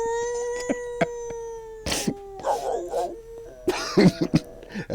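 A man mimics a long wavering howl with his voice, a sustained tonal call lasting nearly two seconds, followed by coughing, throat sounds and bursts of laughter or chatter from others nearby.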